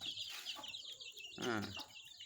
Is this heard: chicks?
yes